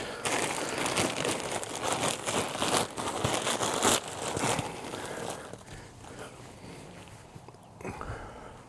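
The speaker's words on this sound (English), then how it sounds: "So I'm just going to get into it here and rip this bag open." A plastic bag of leaf-like mulch, stored outside, is ripped open and pulled apart, giving close, loud crinkling and tearing with rustling bursts that ease into softer handling toward the end.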